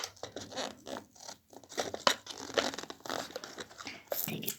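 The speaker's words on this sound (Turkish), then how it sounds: "Evet en sonunda açılıyor. İkinci paket." An instant noodle packet with beef flavouring is torn open up close, giving a series of ripping, crinkling and scratching bursts of plastic that come in uneven pulses.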